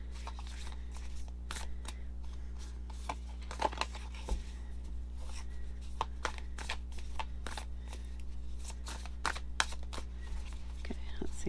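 Tarot cards shuffled over and over in a quiet room, a continuous soft riffling and slapping with brief crisp snaps, set over a low steady hum.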